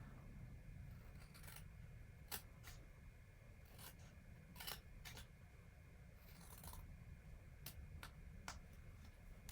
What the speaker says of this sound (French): je vais couper mes angles afin de monter le couvercle